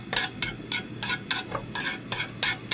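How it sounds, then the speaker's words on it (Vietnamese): Shallots and garlic sizzling in hot oil in a pan, with steady frying crackle and regular scraping strokes of a utensil stirring them about every quarter second. "Cho hành tím và tỏi vào phi."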